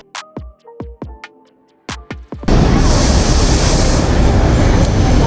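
The narrow-gauge toy train between Neral and Matheran is heard after a few sharp tonal chirps, when a loud, steady rushing rumble of the moving train takes over for several seconds without speech.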